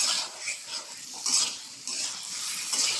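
A little water goes into a frying pan of cauliflower, potatoes and koi fish, and it hisses and sizzles in bursts as a utensil scrapes and stirs, close and steady, with no voices.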